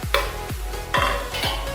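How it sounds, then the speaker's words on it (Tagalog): Onion, garlic and ginger sizzle loudly in a frying pan for escabeche, with four rhythmic stirring scrapes cutting through the close hiss of frying. "Ang ingay ng kawali."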